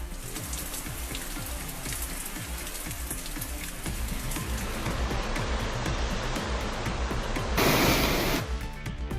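Heavy rain pours down in Karaikal, a dense, steady hiss of drops striking surfaces that swells louder toward the end, with no voices present.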